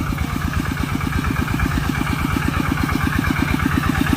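An engine-driven pump draws groundwater, its motor chugging in a fast, even thump close by, steady and unbroken throughout.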